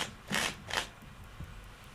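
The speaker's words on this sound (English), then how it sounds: "So I'm going to take out the cards, a standard pack of cards." A standard pack of playing cards comes out of its box with two quick, soft papery swishes close together, followed by a faint tap. The sounds are quiet against a low background, and no one speaks.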